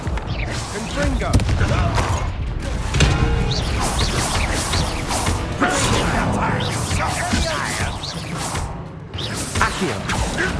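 The Confringo spell cast in the Hogwarts Legacy video game amid dense, loud combat effects: whooshes, crashes and clanking mechanisms pile up continuously, with voices throughout.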